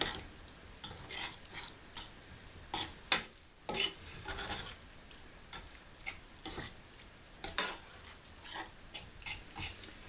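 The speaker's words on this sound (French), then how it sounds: "On va bien mélanger tout ça." A spoon stirs rice curry in a pot, scraping and clinking in an irregular run of soft strokes at close range, with no voices.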